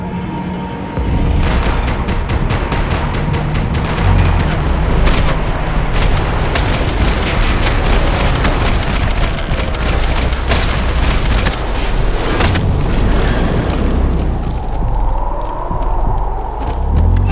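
Video game gunfire and explosions in Max Payne 3, a loud sustained barrage of rapid shots, booming blasts and heavy rumble running throughout, with no talk.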